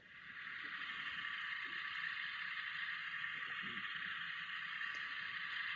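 An Athearn N scale 4664 coal-burning Challenger model locomotive hums with a steady, faint mechanical drone and hiss that starts as power comes on and holds evenly, with no talk.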